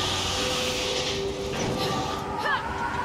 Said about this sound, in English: Hey, the real train!